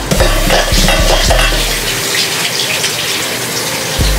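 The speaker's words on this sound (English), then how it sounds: "I gotta wash my hands off, y'all." Tap water runs and gushes in a sink during hand washing, a steady close splashing flow with a few brief thumps early on, no talking.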